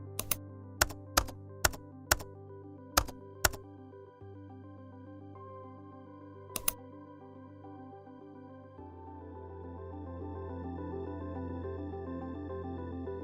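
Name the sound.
typing text on a computer keyboard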